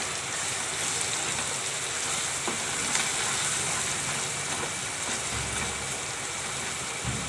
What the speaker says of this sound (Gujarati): ઘડીક વાર આપણે મસાલામાં સડવા દઈએ.